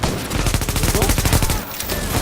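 Rapid sustained machine-gun fire from an MG40 in a combat video game, a dense stream of evenly spaced loud shots running nearly continuously with a brief dip near the end.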